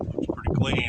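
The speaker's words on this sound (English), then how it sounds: "I'm sure you guys can hear my chicken in the background that's not real happy." A distressed pet chicken squawks loudly in the background while someone speaks briefly over it.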